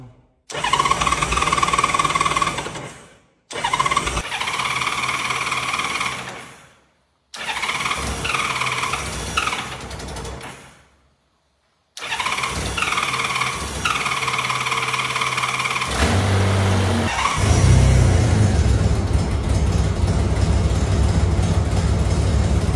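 A 1988 Honda Gold Wing GL1500 motorcycle engine cranks in several loud bursts separated by short silences, then catches and revs up into a strong, steady roar close to the microphone.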